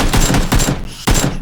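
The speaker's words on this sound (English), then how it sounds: "Let's just shoot each other." Rapid bursts of gunfire in a video game shootout, several loud clustered volleys with a short gap before a final burst, no talking.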